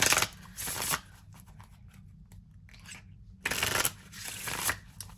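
An oracle card deck being shuffled by hand, two bursts of crisp riffling card flutter separated by quieter handling and soft rubbing, close and fairly quiet.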